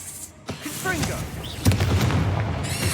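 Confringo blasting spell in Hogwarts Legacy, a sharp booming burst followed by crackling debris, with a voice calling out and combat noise around it.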